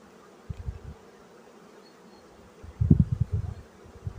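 Honey bees buzz around a feed frame of the hive in spring, two short bursts of close, low humming separated by quiet, the second louder and longer.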